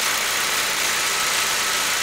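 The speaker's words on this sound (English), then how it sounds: "Right now the engine is running good." A 2008 Saab 9-3 2.0T idles steadily, giving a continuous close engine hum with a fine even vibration and no talk over it. The engine has a random misfire fault.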